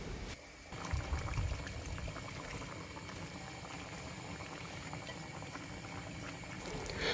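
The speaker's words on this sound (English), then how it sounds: "At this stage, you can see the pasta's ready, so we're going to get draining that off" Cooked pasta drained in a home kitchen for a chicken and chorizo dish, a steady, close rush of pouring water and steam hiss that runs unbroken for several seconds after a brief quieter start.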